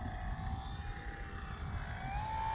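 A Dynam FW 190 RC model warbird flies on a windy day, its electric motor giving a thin, steady whine that rises in pitch toward the end over a low rumble of wind, fairly faint and distant.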